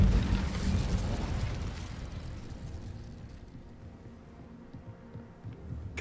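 An Incendio fire spell cast in a wizard video game bursts with a loud, low whooshing boom that slowly rumbles and fades over several seconds.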